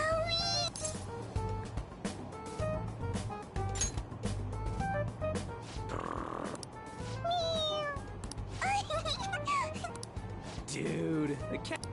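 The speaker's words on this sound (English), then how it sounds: "Is that your pet, mister? I heard it meowing." A cat in Persona 5 Royal meows repeatedly, with several distinct, close mews scattered through a scene, mixed with game dialogue voices and background music.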